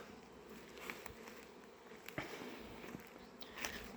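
Honeybees fly around hives at an apiary on a warm early spring day, a soft continuous buzzing hum in the background with a few faint ticks and taps, and no talking.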